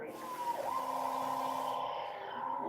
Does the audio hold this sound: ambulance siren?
yes